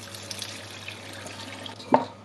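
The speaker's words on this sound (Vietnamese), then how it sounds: "Sau đó lấy nước sôi dội lên." Boiling water is poured over freshly cooked rice noodles sitting in a colander, giving a soft, continuous splashing wash with one brief louder splash near the end.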